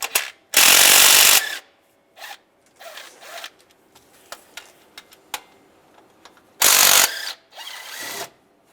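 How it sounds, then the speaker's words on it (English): A ratchet with a 15mm socket backs out belt tensioner bolts on a 2007-2013 Chevy Silverado engine, giving loud bursts of rapid clicking, two long runs and several short spins with single ticks between. "Take these bolts out."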